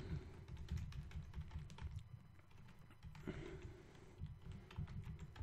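Steady keyboard typing, quick irregular key taps with short pauses, close by over a low background hum.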